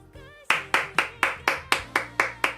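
Eight small, evenly spaced hand claps, close and crisp, following a short hummed note.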